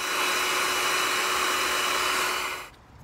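A heat gun blows steadily and loud at close range while shrinking heat-shrink tubing onto wiring connectors, holding an even hiss for nearly three seconds before cutting off abruptly.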